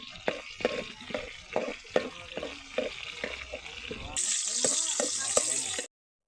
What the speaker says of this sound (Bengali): পেঁয়াজটা লাল লাল হওয়া পর্যন্ত আমরা ভালো করে ভেজে নিব।